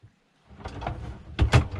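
Two drawers in a self-built Fiat Ducato camper van slide open, giving a short rolling rumble followed by a couple of sharp knocks and clatters as they reach the end, close by.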